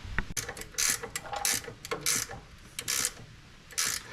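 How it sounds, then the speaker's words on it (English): Alternator being worked off a Ford Courier engine, heard as a run of close metallic ratcheting clicks and brief scraping, rattling bursts at irregular intervals, with no talking. "So I'll pull the alternator the rest of the way off"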